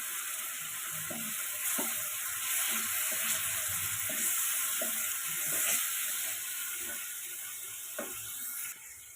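Ginger, garlic and green chilli paste frying with ground spices for a rohu fish curry, a steady sizzle broken by scraping strokes of a spoon stirring the pan, close and alone.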